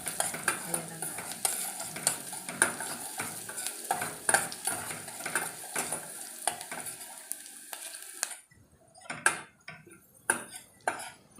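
Garlic and onion sauté in a pan, a crackling sizzle under frequent metallic scrapes and clinks of a spoon stirring, with the frying fading out and sparse utensil knocks continuing after.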